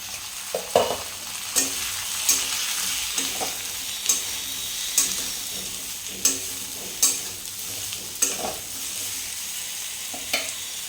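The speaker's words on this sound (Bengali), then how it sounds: "ঝিঙাগুলো এখন দিয়ে দেবো" Ridge gourd stirred in a hot pan while cooking for a pabda fish curry with potato: a steady sizzle of frying, broken by regular scraping stir strokes about once a second, close up with no talk.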